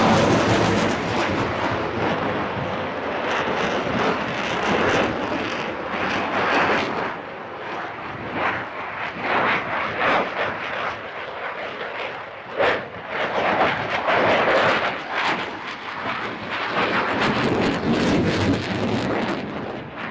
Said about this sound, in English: This is the Royal Danish Air Force F-16.